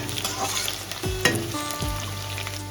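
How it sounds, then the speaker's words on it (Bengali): Potato pieces fry in hot oil in a pan with a steady bubbling sizzle, and stirring scrapes and utensil clinks cut in now and then. "তো এবারে আলুটা ভেজে নেব।"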